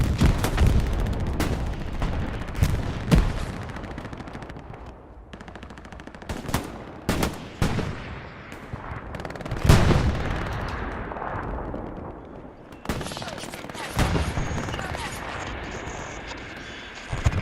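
Gunfire in the WWII shooter Hell Let Loose during a competitive console match, sharp close rifle shots and machine-gun bursts cracking repeatedly with booming explosions, loud and irregular, while a caster talks over it.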